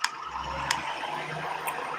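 A trash truck working outside gives a low, rumbling engine drone with a few sharp mechanical clanks. It is moderately loud and continuous over two seconds, with no talk.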